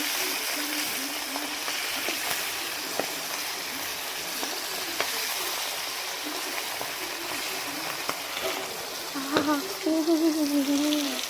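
Hot oil sizzling in a pan while small fish cook, a continuous moderate frying hiss with scattered pops and some stirring, and a brief voice-like sound near the end.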